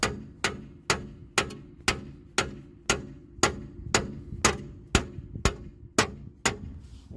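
Sharp metal hammer blows knocking a seized front lower ball joint loose from the hub on a Mercedes W140, about a dozen ringing strikes at a steady, slightly quickening rhythm, close and loud with no talking.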